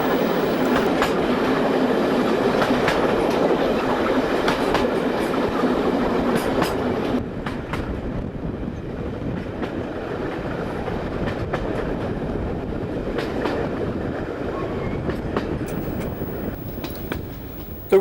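A steam train rolls past on a heritage railway line, a loud steady rumble with rhythmic clickety-clack and occasional sharp clicks, easing slightly in the second half.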